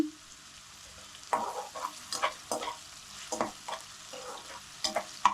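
Green chillies fry in a pan with fenugreek leaves while being stirred, giving a soft background sizzle broken by irregular scraping stirs, close and fairly quiet.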